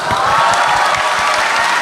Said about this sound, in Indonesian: Tepuk tangannya ya, luar biasa ya